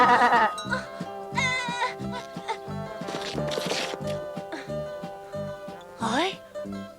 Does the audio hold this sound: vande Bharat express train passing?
no